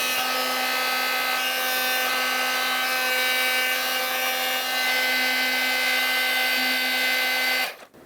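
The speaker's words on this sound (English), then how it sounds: "because these are heat shrink connectors, we're going to heat shrink these" Heat gun blowing steadily while shrinking heat shrink wire connectors during a Ford Excursion headlight install, a constant close fan whine and hiss that cuts off near the end.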